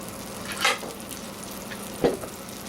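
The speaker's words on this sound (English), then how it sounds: "Again, another knob of butter in the pan." A knob of butter melting in a hot frying pan for a brook trout dish, giving a low steady sizzle with two brief louder clinks or stirring bursts, heard alone with no talk.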